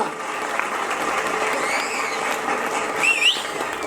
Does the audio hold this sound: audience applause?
yes